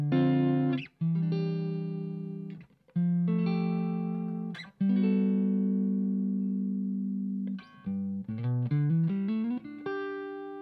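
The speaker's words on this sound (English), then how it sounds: "if I turn the volume down on my guitar, it will clean up even more" A clean Stratocaster electric guitar, volume knob turned down, plays single notes and short phrases, ringing out with sustain, soft and undistorted, with no voices.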